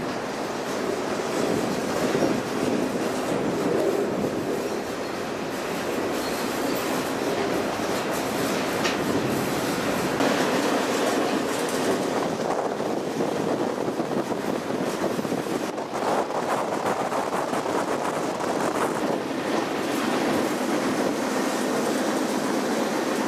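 Freight train rolling at night in Canada, heard up close from aboard a car, with a continuous rumbling roar, rhythmic clatter of wheels over rail joints and occasional metallic squeals.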